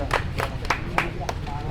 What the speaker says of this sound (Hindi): सब लोग ताली बजा के स्वागत कर दीजिए।